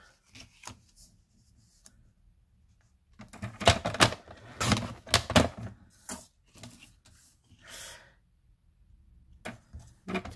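Paper for a pocket letter is cut with scissors, close sharp snips in a cluster of crisp strokes, preceded and followed by scattered light taps and handling sounds in a quiet room.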